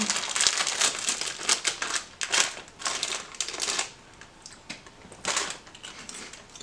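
A bag of Sandboy crinkle-cut barbecue potato chips is crumpled and handled up close, producing loud bursts of crackly plastic crinkling in an irregular rhythm.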